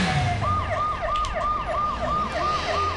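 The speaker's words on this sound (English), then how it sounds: "Oh! Ambulance." A wailing ambulance siren from the video game Watch Dogs sweeps up and down in a steady repeating cycle over a constant traffic and engine rumble, fairly loud and without talk.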